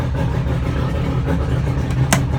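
A 200hp Mercury outboard on a 1994 Robalo boat runs with a loud, steady low rumble right after start-up, close, with a brief sharp hiss-like burst near the end.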